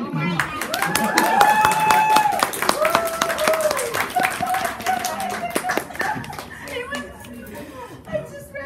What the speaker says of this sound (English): You better all freaking applaud for that